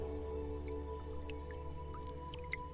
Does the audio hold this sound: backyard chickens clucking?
no